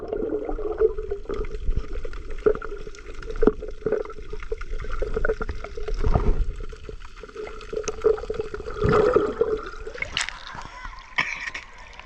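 Water splashes and gurgles in a clear cave pool at sunset as someone dives in without goggles, with irregular splashes and sloshing at close range while voices talk over it.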